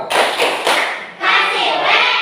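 A school class claps together in a rhythmic 'tepuk wow' cheer, with a few loud, close group claps followed by a sustained burst of clapping and chanting voices.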